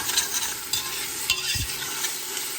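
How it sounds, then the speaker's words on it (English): Onion, garlic and ginger caramelizing in a pan for butter chicken, with soft sizzling broken by scraping stir strokes across the bottom, close and fairly quiet, no talking. "So I'm going to let this caramelize a little longer until the garlic and ginger gets caramelized with it."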